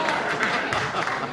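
Studio audience applause at a 1972 Tonight Show Starring Johnny Carson taping, a short burst of dense clapping that fills the room at moderate loudness.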